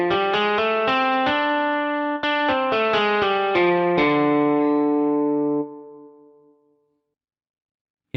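Blues scale played as a quick run of separate clean, bright notes, each struck cleanly, the last tone ringing out and fading to silence.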